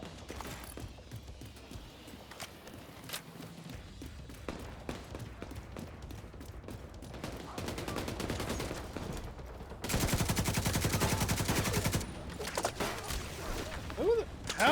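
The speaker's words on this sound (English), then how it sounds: "How is that thing still shooting at me when I blew up the goddamn guy that owned it?" Automatic turret fire in The Division 2, bursts of rapid shots growing louder and denser in the second half, a sustained heavy volley near the end, with game noise around it.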